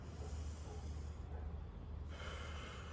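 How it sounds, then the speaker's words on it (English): A deep, slow breath is drawn in outdoors during a gentle full-body strength workout, heard as a soft, close, airy inhale lasting a couple of seconds against a low steady background rumble. "I take a breath in."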